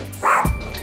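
A single short dog bark or yip, close by and fairly loud, over a quiet background.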